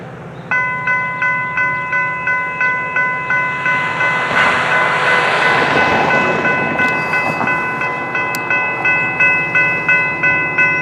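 A Chicago Metra commuter train pulls in close and loud, a sustained multi-tone horn blaring over rhythmic clickety-clack of wheels on rail joints that repeats steadily throughout.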